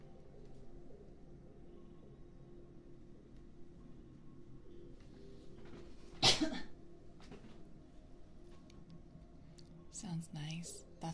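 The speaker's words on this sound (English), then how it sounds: "It was a cough, not a sneeze" A single sharp cough bursts out close to the microphone amid quiet whispering, followed later by a few softer rustles and breaths.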